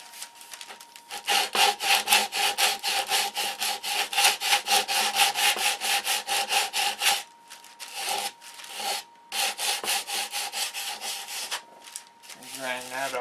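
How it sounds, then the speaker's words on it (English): Molded balsa wood is sanded by hand with sandpaper in steady, rapid back-and-forth strokes, a loud, close, rhythmic scratching that pauses briefly and resumes, with no talk. "now to finish it off, I take some sandpaper."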